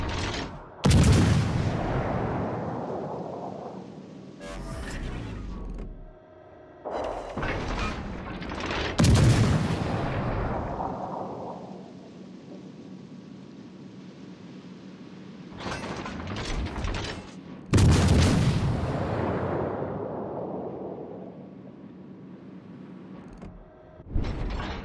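Heavy artillery fire in a video game boom out in several separate loud blasts, each with a long rumbling decay, between mechanical clanking and ratcheting sounds.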